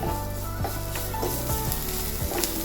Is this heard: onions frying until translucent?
yes